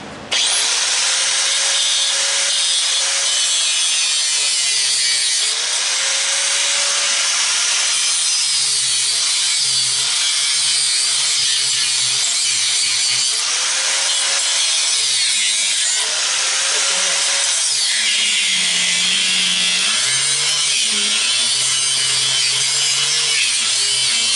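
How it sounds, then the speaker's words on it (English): A Sawzall reciprocating saw cuts apart an old electric weed eater, buzzing loudly and continuously up close with a harsh rasping stroke and occasional shifts in pitch as the blade bites. "I'll get the sawzall."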